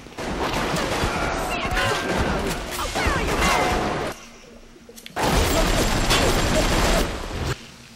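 Rapid bursts of gunfire around a gun turret in the BioShock video game, loud and dense with crashing impacts, breaking off briefly near the middle before resuming just as heavy.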